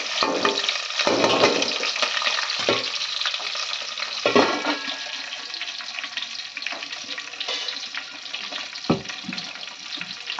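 Tomatoes, green chillies and onions frying and being stirred in a pan for bagara rice, a steady broadband sizzle with occasional scraping clatters of a spoon, close and moderately loud, no talking.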